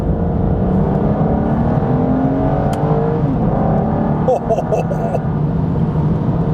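An Aston Martin DB9 engine growls steadily while accelerating in second gear, a loud continuous rumble from inside the cabin with a brief tonal chirp near the end.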